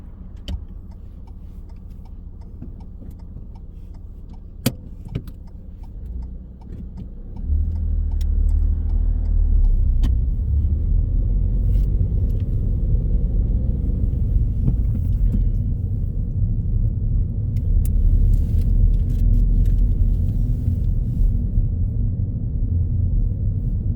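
Car pulling away during a mock driving test on a Hendon test route, heard from inside: a steady low engine and road rumble that rises and grows louder after a few seconds and then holds, with a faint ticking indicator early on.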